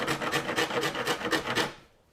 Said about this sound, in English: so I'll use a cheese grater on it